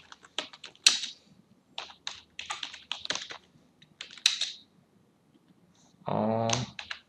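Someone types a sentence on a computer keyboard in quick irregular bursts of close, crisp key taps separated by short pauses, followed by one louder rattling stretch of clatter near the end.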